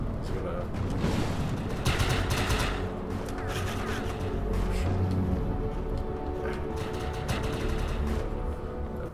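Assault rifle gunfire in the game Defiance 2050 on PS4, sustained rapid shots rattling close and loud for several seconds amid explosions and battle noise.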